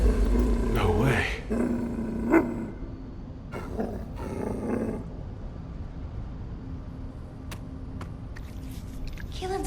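Low growling from a dog in The First Descendant video game, rumbling beneath game dialogue and background score, with a few sharper snarls near the start.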